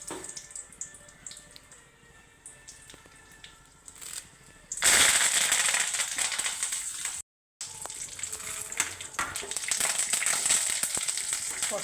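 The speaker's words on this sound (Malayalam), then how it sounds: "കടുക് പൊട്ടുന്നത്" Mustard seeds splutter in hot oil while tempering a ginger curry. Quiet crackles come first, then a sudden loud burst of rapid popping and sizzling that continues close and intense after a brief cut.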